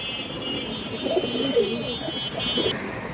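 A male pigeon cooing, low soft repeated coos up close over a steady background hum, with a faint high whine running across most of the stretch.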